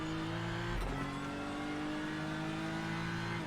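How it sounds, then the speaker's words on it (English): A GT3 race car on the Suzuka circuit powers out of the final turn, its engine note rising steadily at full throttle after a brief dip near the start, loud and close with no talk. "Hard right, hard left, and back on the throttle for the final turn."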